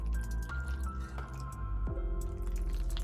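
Wet, squishy dripping as cooked macaroni noodles are folded into a roux in a pot, close up, with soft sloshes and drips and no talking.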